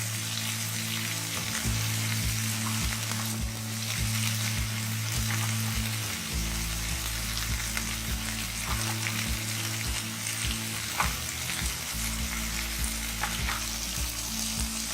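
Okra frying with turmeric, red chili and coriander powder in a pan, a continuous close sizzle with a low cooktop hum beneath and occasional scraping of the stirring spoon.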